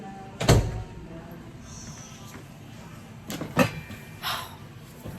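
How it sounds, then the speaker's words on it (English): A child banging on a door at home, heard as two separate heavy knocks several seconds apart, with a softer bump after the second and no voices. "And now you over here banging on this door."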